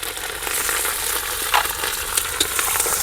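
Curry leaves and green chillies frying in hot oil for lemon rice, a steady close-up sizzle with occasional sharper crackles and pops throughout.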